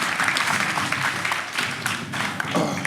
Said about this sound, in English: Round of applause for Baron Davis